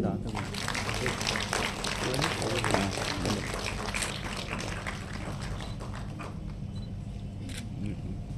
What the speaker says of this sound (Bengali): এই শুভক্ষণে একটা জোরে করতালি।